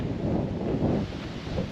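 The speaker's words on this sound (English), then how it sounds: "It is windy, but that's okay." Wind gusts buffet the microphone in the Yukon on the way into Alaska, a low, uneven rumbling roar that swells and eases over a couple of seconds, with no talking.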